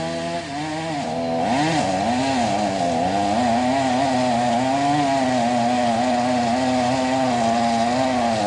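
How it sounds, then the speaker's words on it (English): A chainsaw runs loud and steady while cutting, its engine pitch dipping and straining as it bogs down in the wood, then holding a labored drone. "That poor chainsaw's bogging down hard."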